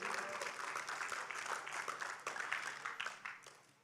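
A youth church service audience clapping their hands in a loose, fairly quiet burst that rises and thins over a few seconds.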